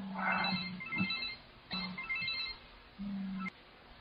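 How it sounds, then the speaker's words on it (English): A phone rings during a recording, repeating electronic ringtone bursts at a moderate level with short gaps between them and no one talking over them. "It seems like every time I try to record one of these videos, my phone rings."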